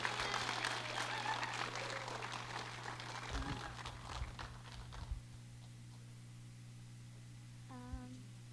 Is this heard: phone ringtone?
no